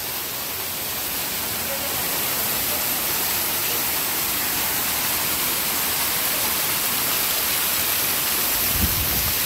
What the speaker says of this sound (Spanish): Miren nomás esta caída de agua tan linda.